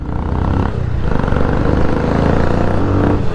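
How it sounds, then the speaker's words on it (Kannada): Pulsar 220F motorcycles fitted with Red Rooster performance silencers rev loudly nearby, a dense, throaty engine roar that swells and holds steady throughout. "ಏನು ಸೌಂಡ್ ಐತೆ ಅಂದ್ರೆ ಕಲ್ಕಿ ಅಣ್ಣನ ಗಾಡಿದು ಮತ್ತು CK ಅಣ್ಣ ಗಾಡಿದು"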